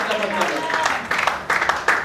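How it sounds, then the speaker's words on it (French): Church congregation clapping and cheering loudly at a gospel album launch, a dense wash of hand claps with voices shouting over it, swelling in bursts toward the end. "nous applaudissons, nous acclamons très très fort pour le nom du Seigneur"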